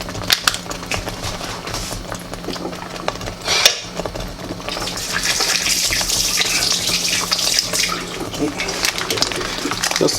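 Hands are washed under a running kitchen tap while cooking chili mac, a steady hiss of flowing water with splashes and a few clinks, getting fuller midway.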